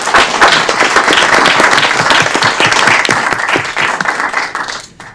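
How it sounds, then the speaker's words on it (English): Audience applause at a city council Committee of the Whole meeting, a loud burst of clapping that holds steady and then fades out near the end. "If you can give a round of applause to Faith Nyong."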